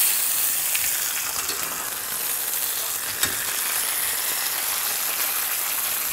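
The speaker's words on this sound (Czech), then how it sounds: "to maso budeme na té pánvičce furt obracet" Rib eye steak frying in a pan, a loud, steady sizzle close up that stays constant throughout, with a couple of small clicks as the meat is moved.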